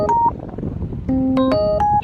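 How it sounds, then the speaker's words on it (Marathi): A mobile phone ringtone plays a melodic tune of sustained tones, loud and close, over background street noise. "केव्हापासून तुमचा फोन वाजतो"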